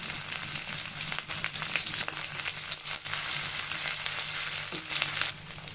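Spice paste sizzles steadily in a pan for an egg korma as a spoonful of ground almond paste goes in, a continuous close frying hiss with small bursts and no voices.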